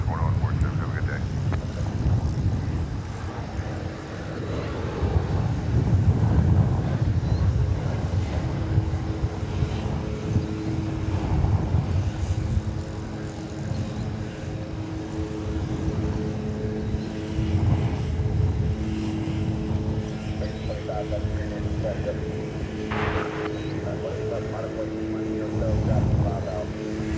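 Frontier Airlines jet departing DFW Airport, a steady broad roar with low rumble and wind buffeting the microphone, continuous throughout with a commentator talking over it.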